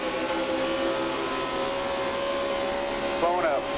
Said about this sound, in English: engine explodes right about the start-finish line